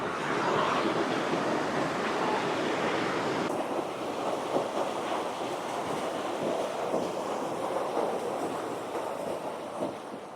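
The main waterfall at Jibhi roars as a continuous broadband rush of falling water with no breaks, heard close and fairly loud.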